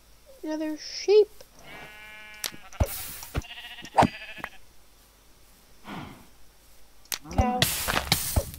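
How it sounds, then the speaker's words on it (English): Sheep in the Minecraft video game bleat several times among other game sounds, with a player talking over them. "Another sheep."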